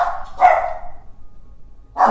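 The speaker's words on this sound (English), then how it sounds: "My dogs, the doorbell rang, so of course they have to tell the whole neighborhood." Dogs barking at home after a doorbell, two loud sharp barks about a second and a half apart, close by, with quiet between them.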